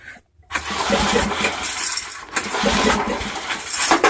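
A Sears ST/16 garden tractor engine is started with choke. After a brief silence it catches and runs loudly and unevenly, dipping once before surging again.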